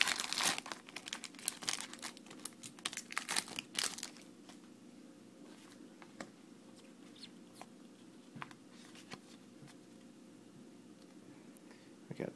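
A Pokemon Dark Explorers booster pack wrapper crinkles and tears in a burst of close, sharp plastic rustles, then fades to a quiet, near-silent room.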